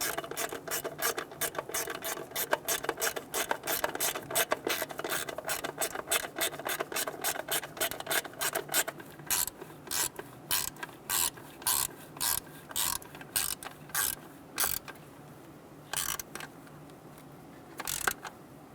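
A ratchet wrench clicks rapidly and steadily as bolts are tightened on the distributor cap of a 1988-1999 GMC K1500 5.7L V8, then slows into short separate bursts of clicks, close and with no talking.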